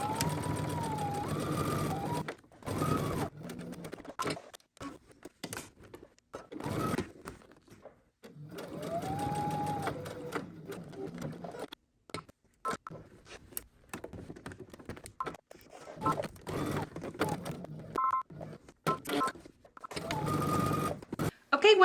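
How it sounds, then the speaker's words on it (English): A sewing machine stitches a jacket and its lining together in repeated runs of rapid, close mechanical whirring. Between the runs come pauses and handling noises, and a voice talks intermittently. "I'm going to go ahead and start sewing"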